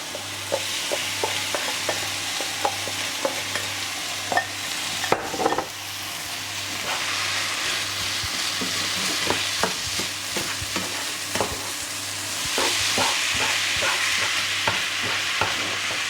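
Cooked rice and vegetables stirred in a wok over a steady frying sizzle, with repeated scraping clicks from the utensil and a brief louder burst midway; no one talks.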